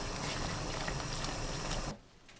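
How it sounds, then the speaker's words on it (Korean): Chamnamul blanching in a pot of boiling water with coarse salt, a steady close bubbling and hissing roll that cuts off abruptly near the end, leaving near silence. "끓는 물에 굵은 소금 반 큰술, 참나물 넣고 데쳐주세요."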